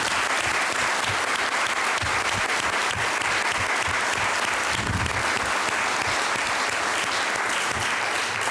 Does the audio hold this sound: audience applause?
yes